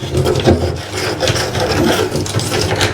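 Old silicone sealant being scraped out from around the edge of a bath, a loud, close, continuous rasping and rubbing in uneven strokes with no talk.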